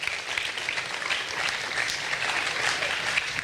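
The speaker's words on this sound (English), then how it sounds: "give Susan a nice round of applause." An audience applauds steadily as a student volunteer is brought up to the stage at a school presentation, a continuous, even clapping wash that holds at one level for the whole stretch.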